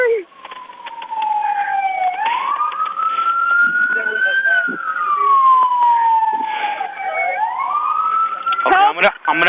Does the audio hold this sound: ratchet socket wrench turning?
no